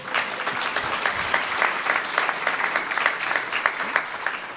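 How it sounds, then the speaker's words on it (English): Audience applause at a hospice heroes award event, a dense, even, sustained clapping from a crowd that fills the whole stretch without speech. "I can guess that from the applause"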